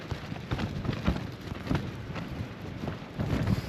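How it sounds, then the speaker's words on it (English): Strong wind gusts through a forest at a wild camp, a loud, rough, buffeting roar that swells and eases throughout. "some really strong wind"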